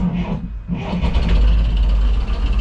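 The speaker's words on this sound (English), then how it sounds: "Let me turn on the engine." A sailboat's auxiliary engine cranks and catches at sea, a brief hesitation near the start giving way to a steady, loud low-pitched running rumble that holds to the end.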